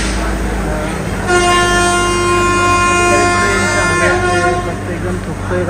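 A train at a railway station near Kalyan, with a loud sustained horn blast over a steady rumbling engine and platform din, voices faint beneath.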